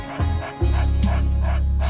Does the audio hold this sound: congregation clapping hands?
no